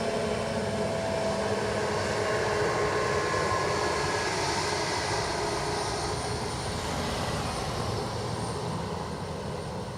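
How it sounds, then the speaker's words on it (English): A Delta Boeing 767 in from Boston roars steadily at Dublin Airport, a loud, continuous broadband jet engine rumble with a faint whine, holding level throughout with no voices. "DL 154 767 from Boston."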